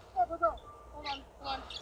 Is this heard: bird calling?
yes